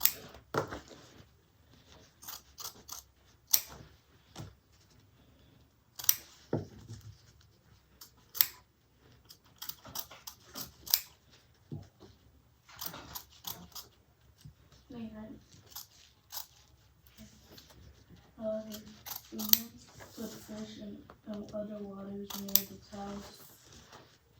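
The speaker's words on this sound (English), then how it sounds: "I'm going to cut this fabric out from the zipper window here." Scissors snip through fabric around the zipper window of a Nola bag in a sewing project, with a string of short, sharp cuts. The cuts come in uneven bursts, and a voice speaks quietly in places.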